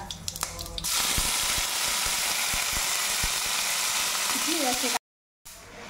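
Whole black mustard seeds and curry leaves sizzle in hot oil for a fish tempering, a loud steady hiss with scattered pops and crackles, briefly cut to silence near the end.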